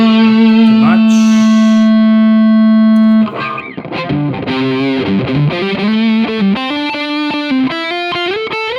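An electric guitar played through an amp with heavy distortion and spring reverb, first one long sustained chord, then a run of rapid, bending notes, loud and close with no talk.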